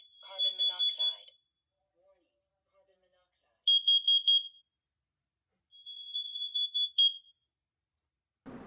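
A 10-year smoke and carbon monoxide detector sounds its alarm test: three bursts of loud, rapid high-pitched beeping separated by short silences, with a faint low thump at the end.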